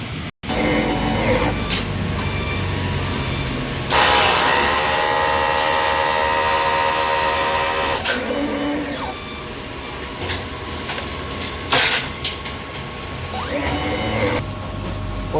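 A DTF printer runs a head clean cycle, its mechanism whirring and grinding steadily with pump and carriage movements, rising tonal motor sweeps and short clunks between phases, close and continuous.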